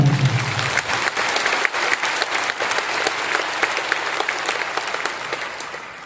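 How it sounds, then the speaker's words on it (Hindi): A training seminar crowd in Patna gives a loud round of applause, dense continuous clapping close by that gradually softens over several seconds. "तो अपने नाम पर एक जबरदस्त ताली।"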